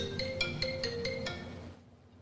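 A phone ringtone chimes through a repeating melodic pattern of about six evenly spaced tones, moderately loud and close, then cuts off abruptly, leaving silence.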